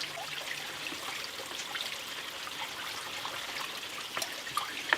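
Water trickling steadily as it seeps through a soaked shemagh cloth into a water bladder, a faint continuous dribble with a few small drips near the end.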